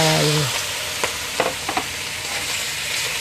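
Catfish pieces drop into curry paste sizzling loudly in a pan, and a few sharp scrapes and clinks of stirring follow under the steady frying hiss.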